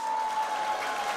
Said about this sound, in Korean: 함신익 지휘자님을 큰 박수로 맞아주시기 바랍니다